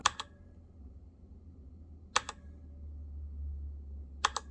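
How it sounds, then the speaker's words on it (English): Three separate bursts of sharp mechanical key clicks on a Razer BlackWidow Elite keyboard, with a faint metallic ring as switches bottom out on the metal chassis, spaced a couple of seconds apart against a quiet low hum. "a metallic twang, as if the switches are hitting the bottom of the metal chassis"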